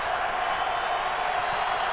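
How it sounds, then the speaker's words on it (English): A loud, steady crowd of Chicago Bears and Indianapolis Colts fans roars in a packed Super Bowl XLI stadium, a dense continuous wash of voices with no single call standing out. "It is definitely a loud crowd for the Chicago Bears."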